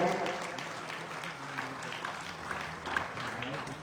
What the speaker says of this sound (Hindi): एक बार इन सभी पत्रकारों के लिए अच्छी ताली बजाकर स्वागत कर दीजिए।